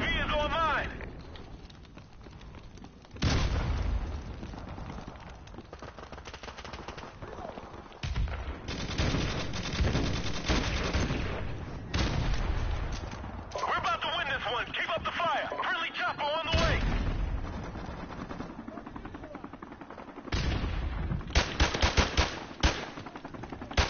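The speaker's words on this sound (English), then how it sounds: "Friendly airstrike on the way!" Gunfire and an airstrike in Call of Duty Modern Warfare Remastered, bursts of automatic fire and sharp shots mixed with heavy blasts, with game radio voices and a player talking over the action.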